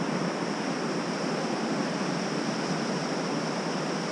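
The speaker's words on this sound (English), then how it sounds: "Lovely cascade going down the river." A small cascade tumbles down a river at Hisley Bridge on Dartmoor, giving a constant, dense rush of falling water that stays loud and even throughout, with no voices.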